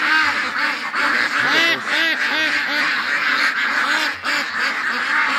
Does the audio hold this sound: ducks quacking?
yes